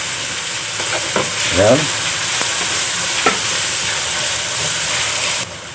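Ginger sizzling and hissing in hot Star margarine in a pan, a steady frying crackle broken by a few sharp stirring scrapes, close and loud, with a brief word spoken over it.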